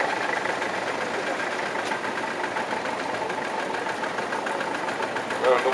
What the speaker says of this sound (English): 1950 Wingate tractor made in Bristol Road, Gloucester, fitted with a diesel engine.